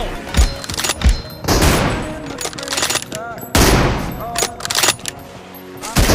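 Gunfire in the mobile shooter BGMI during a team deathmatch, with sharp single shots and rapid bursts coming in clusters, loud and close, separated by brief lulls.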